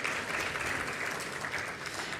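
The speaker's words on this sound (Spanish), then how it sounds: "Un aplauso también, por favor, para Federico." Sustained applause from a conference audience at an academic research presentation on Chinese influence in Latin America, dense even clapping filling the whole short stretch without talk over it.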